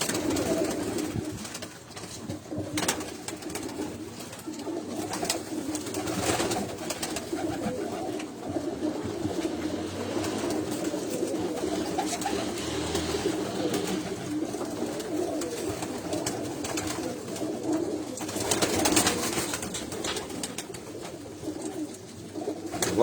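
Pigeons coo steadily at a breeder's pigeon loft in Pindi, a soft, continuous murmur of many birds close by with no talking.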